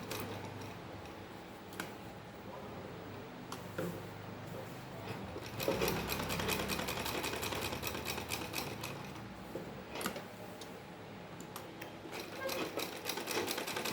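A sewing machine stitches round designs on salwar fabric with a fast, fairly quiet ticking clatter, intensifying midway and continuing steadily with brief pauses.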